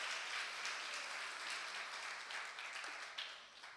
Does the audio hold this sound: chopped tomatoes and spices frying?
no